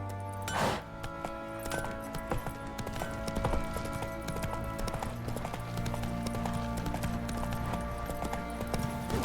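Horse hooves galloping in The Witcher 3, a continuous rhythmic clip-clop of a ridden horse with faint tack jingling, steady and close over ambient game music.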